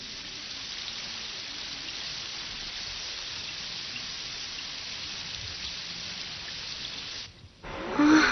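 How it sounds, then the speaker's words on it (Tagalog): Heavy rain pours in a constant dense wash in an animated series, steady and loud for most of the stretch, then briefly dipping before a louder swell at the end. "Ang lakas-lakas naman ng ulan."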